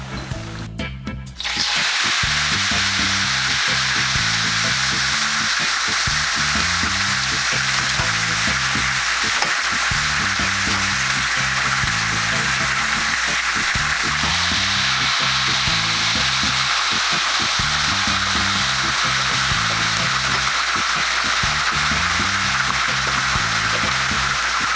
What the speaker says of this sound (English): Now what I'm going to do is I'm going to let my oil get very hot again. And then I'm going to add the fish.